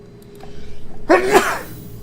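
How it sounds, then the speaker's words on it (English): A single close, loud sneeze picked up right on a microphone, bursting out after a second of quiet with a faint breathy tail. "Didn't mean to sneeze into a microphone here."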